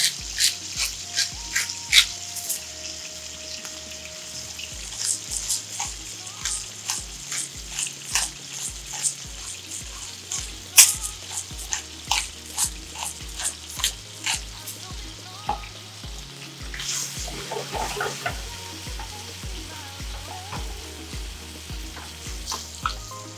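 Chicken pieces sizzle steadily in a pan while being stirred, for a chicken carbonara dish, with a continuous frying hiss, occasional scraping clicks and a steady rhythmic music beat underneath.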